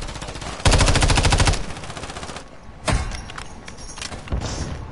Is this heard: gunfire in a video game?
yes